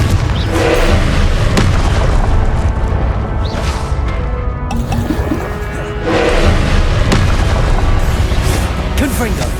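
Fiery Confringo spell blasts in Hogwarts Legacy, loud booming explosions with crackling bursts rolling continuously under dense game music and effects, with a brief dip midway before the rumble surges again.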